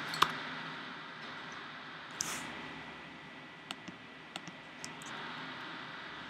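Sparse clicks of keys on a computer keyboard as an IP address is entered, a few quiet, isolated taps spaced irregularly over a faint background hiss.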